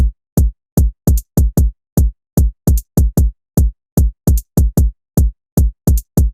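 A jersey club beat built in BandLab punches out loud, deep kicks paired with crisp hi-hat ticks on every beat, a tight repeating drum pattern that is dry, close and has no vocals.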